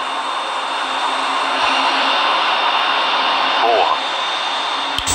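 Jet engines of an Airbus A340-300 drone steadily through a flight simulator game landing at Toronto, a loud continuous roar with a faint whine, while a voice talks over it.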